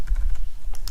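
Rapid keystrokes on a computer keyboard during a programming tutorial, a close run of light clicks in an uneven rhythm with a couple of sharper taps near the end.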